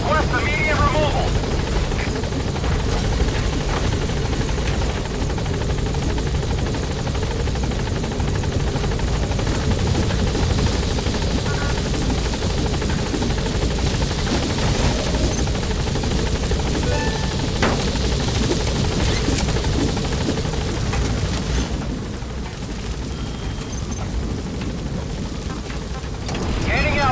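Helicopter in Metal Gear Solid V lifting off: a loud, steady rotor and turbine roar fills the whole stretch, easing slightly near the end, with game sounds and radio voices underneath.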